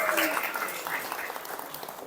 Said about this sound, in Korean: 박수 좀 한번 같이 쳐보실까요?